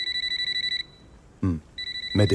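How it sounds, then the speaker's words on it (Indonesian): A mobile phone rings with a bright, rapidly pulsing electronic tone that stops briefly and resumes, close and clear, with a short muffled sound and a voice-like burst in the gap. "Sesaat kemudian handphone Vasu berdering"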